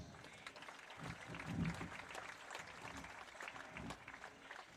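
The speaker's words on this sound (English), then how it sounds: "Give him a nice round of applause." Faint, distant applause from a crowd at a Little League baseball championship skills competition, scattered claps with some low crowd noise and a few thuds underneath.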